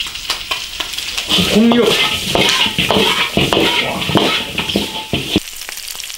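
Chicken rack bones tossed in a large iron wok with red chili oil and spices sizzle loudly and steadily, with scraping clatters of a spatula against the metal and a brief voice over the frying.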